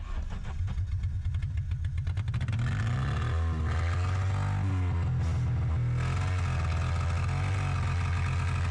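An abandoned car stalled in a slushy snowy field is restarted, the starter cranking briefly before the engine catches and settles into a loud, steady idle close by.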